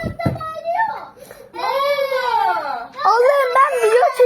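A young child cries loudly and close by, with wailing, sobbing bursts separated by short gasps and whimpers.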